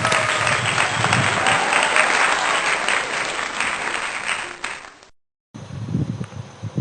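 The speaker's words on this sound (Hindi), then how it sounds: "तालियां।" Congregation applause at a Sunday worship service at Vishwasi Mandir church, steady dense clapping from many hands that fades out, then a brief pause before scattered clapping and murmuring resume.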